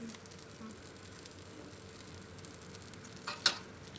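Pesarattu, a green gram batter crepe, fries in oil on a hot pan with a steady soft sizzle, and a brief louder crackle comes near the end.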